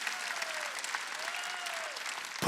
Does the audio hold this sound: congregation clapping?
yes